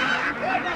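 A brief, near honk from geese or ducks at a busy village livestock market in Bangladesh, where ducks and geese are sold.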